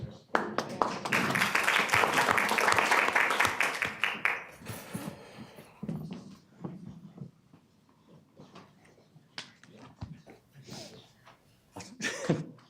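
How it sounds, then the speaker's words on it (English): People clap at a city council meeting in a burst of scattered applause that swells for a few seconds and then thins out, followed by quieter room noise, rustling and a few isolated claps. "Hearing everybody clap"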